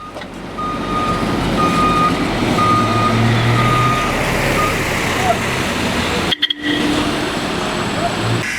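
Tow truck carrying a vehicle, stuck in a road collapse caused by a burst water pipe, beeps steadily as it reverses. The beeps sound close and loud over constant engine rumble and street noise, with voices underneath.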